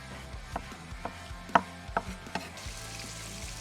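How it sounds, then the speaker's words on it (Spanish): Vegetables for a sofrito are chopped on a board with a knife, making a series of irregular, fairly close thuds and knocks, one louder strike standing out; no speech is heard. "Mientras picamos las verduras"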